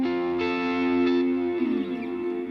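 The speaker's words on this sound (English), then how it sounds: "this is kind of the glue, is this Fender large hall reverb" Electric guitar run through a Fender large hall reverb on a Tone Master Pro, sustained chords ringing out with a lush, long reverb tail that shifts pitch near the end, heard alone without talk.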